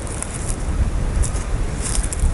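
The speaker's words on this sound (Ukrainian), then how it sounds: "Перепрошую трошки, то що є вітер." Steady, rumbling wind buffeting a microphone outdoors, loud and continuous, with no voices, before a Husqvarna 135 chainsaw is run.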